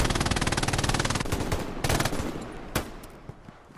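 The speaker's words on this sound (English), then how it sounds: "Oh, now I got shot in the back, Dicka." Rapid automatic gunfire in the WWII shooter game Hell Let Loose, a fast loud burst for over a second followed by several sharp single shots and bursts that fade into lingering echo.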